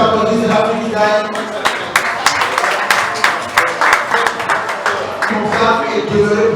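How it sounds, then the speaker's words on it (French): Rhythmic clapping from a group at a table football (baby-foot) match, sharp and fairly close, with a voice talking over it. "Bravo, ça s'applaudit, l'Afrique gagne"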